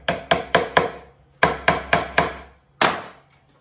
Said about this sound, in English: So with my little lady's hammer, just put a tack in there.